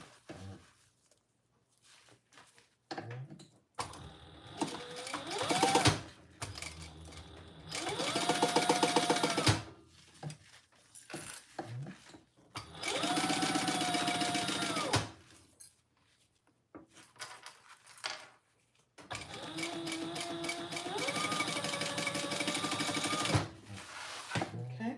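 A home sewing machine bastes fabric pieces of a Monarch mini quilt in place, running in several loud sustained whirring bursts separated by short pauses and handling clatter, close to the microphone.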